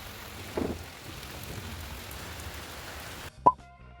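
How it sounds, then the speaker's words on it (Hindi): Steady rain pours down outdoors as a dense, even hiss for about three seconds, with a dull plop early on, then the wash cuts off abruptly before a single sharp knock-like sound. "बहुत ज़ोरों से बारिश हो रही थी, एंड आप देखिए नज़ारा।"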